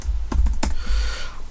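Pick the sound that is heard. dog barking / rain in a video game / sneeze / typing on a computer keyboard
typing on a computer keyboard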